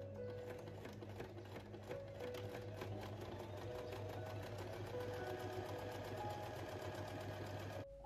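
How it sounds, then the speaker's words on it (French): A sewing machine runs steadily while stitching straight seams on a shirt, giving a continuous close mechanical whir with fast needle chatter that carries through the whole stretch without pause. "On réalise maintenant 2 autres coutures droites, une au niveau des épingles et une au niveau de l'extrémité de la boutonnière"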